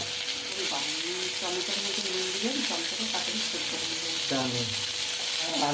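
Food sizzles and fries in a pan with a steady broadband hiss, while voices talk over it throughout.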